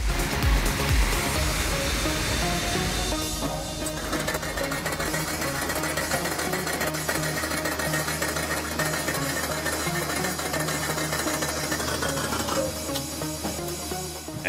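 Water rushing from a hydroelectric dam's diffusion valve, a loud, constant roaring hiss with no breaks, heard alone throughout.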